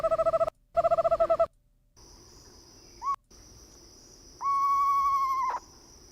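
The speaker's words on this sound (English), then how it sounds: "These are owl sounds." Recorded owl calls play back: a rapid pulsing trill repeated twice, then a short hoot and a longer sustained wavering call over faint insect-like chirping and a steady high tone.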